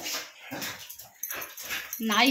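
A dog whimpers and yips in short, whiny bursts, close by, mixed with a person's voice.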